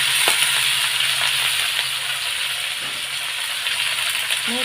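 Fried pieces and slit green chillies go into very hot oil with black cumin, producing a constant, close sizzling hiss with faint rattles and crackles throughout.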